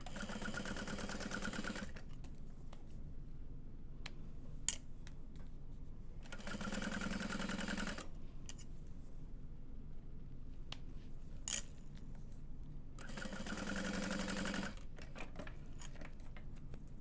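Sewing machine top-stitching along the sides of folded fabric strap connectors for a tote bag, three separate bursts of steady stitching with quiet pauses in between, close and clear, and nobody speaks.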